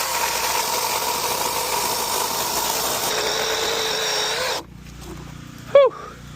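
A Milwaukee cordless chainsaw fitted with a 20 inch bar cuts through a big chunk of wood, a loud steady whine running for several seconds before stopping abruptly, followed by quiet and a brief squeak.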